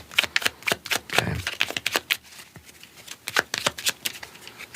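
Divine Doorway oracle cards shuffled close up in a quiet ASMR tarot-reading setting: a brisk run of crisp riffling flutters and soft slaps, repeating in quick uneven bursts with no voice over them.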